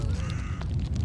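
A crow caws at an airport over a steady low rumble of wind or engines, the calls coming as brief harsh bursts close by.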